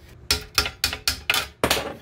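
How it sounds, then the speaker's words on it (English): Hammer blows knocking a rust-crusted e-brake cable loose on a Jeep ZJ rear brake part: six sharp metallic strikes in a steady rhythm about a third of a second apart, close and loud, with no talking. "Just gonna hammer this out."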